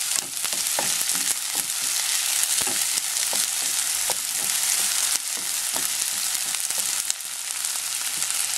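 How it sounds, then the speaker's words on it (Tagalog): Soft onion sautéing in a pan, a steady bright sizzle heard up close with frequent light taps and scrapes of a stirring utensil, and no talk. "So, itong sibuyas na nilagay natin, madali lang pong maluto ito"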